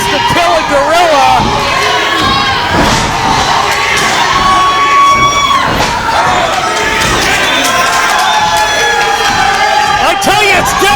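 A deafening wrestling-show crowd roars, cheers and shouts continuously, with whoops and high yells piercing through a constant wall of noise, loud and close throughout.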